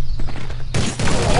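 A light machine gun firing in Counter-Strike Nexon: Zombies, a rapid rattling burst that swells loud and close partway through the short stretch of sound.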